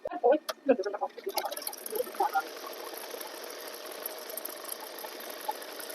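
A sewing machine stitches a tabeez patti strip onto a kurta, running as a steady mechanical whir after a few brief knocks and clicks at the start.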